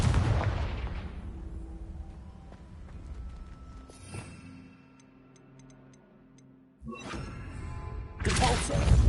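A Confringo blasting spell in Hogwarts Legacy opens with a loud explosive burst that fades into a long, crackling decay. Later come fainter ticking sounds, then more sudden bursts near the end.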